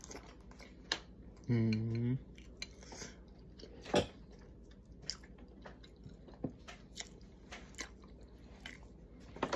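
Soft chewing and biting while eating homemade shrimp and grits, faint and close, with scattered mouth sounds and a brief voice early on.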